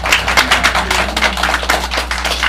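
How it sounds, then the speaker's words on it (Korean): A church congregation clapping together at an afternoon sermon, a dense steady patter of many hands that stays fairly loud and even throughout. "박수 한번 합시다."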